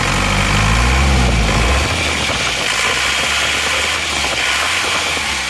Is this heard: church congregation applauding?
no